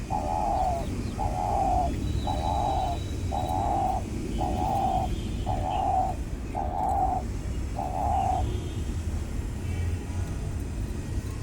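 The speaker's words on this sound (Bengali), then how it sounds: "দেখতে পাচ্ছেন ডাকতেছে পাখিটা কি সুন্দর করে" A tame dove gives a run of eight even, rhythmic coos close by, then falls quiet over a constant low outdoor background hum.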